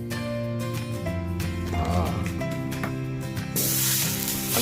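Chili paste stir-fried in hot oil for a Thai beef rib curry, a continuous sizzle and hiss with scraping stirs, up close, over a steady tonal hum and a sharper burst of spitting near the end.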